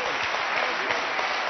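A studio audience breaks into brief, dense applause during a heated televised debate about Roma people, a continuous wash of many hands clapping throughout the short moment.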